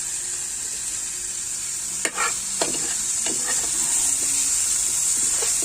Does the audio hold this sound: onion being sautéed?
yes